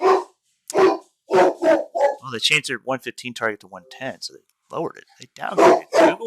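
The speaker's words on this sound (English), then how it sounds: "Pardon my dog here." A dog barks in short, loud bursts near the microphone, several sharp barks at the start and end with a whimpering yip in between, while someone talks over and between them.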